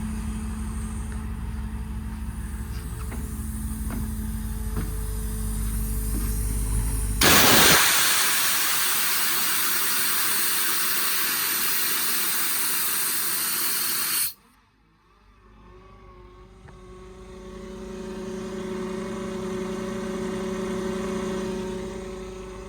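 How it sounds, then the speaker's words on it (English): Air compressor on a 2022 Ford F550 4WD service truck with an IMT Dominator bed: an engine-like hum, then a loud sustained hiss of released air that cuts off abruptly before the compressor hum resumes, no talking. "compressor kicks back on when the air is released"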